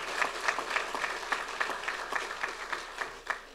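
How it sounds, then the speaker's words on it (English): Audience applause after a speech at a United Soccer League announcement, a modest crowd clapping in a loose rhythm with distinct individual claps standing out, steady and moderately faint throughout. "let's give a round of applause to the United Soccer League just for that"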